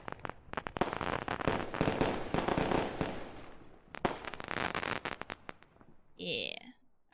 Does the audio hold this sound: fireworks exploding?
yes